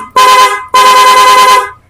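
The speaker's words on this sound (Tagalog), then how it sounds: "Pati sa loud horn meron ding rapid horn." A loud Honda ADV 160 motorcycle rapid horn sounds in two blasts, a short one and then a longer sustained one, close and piercing.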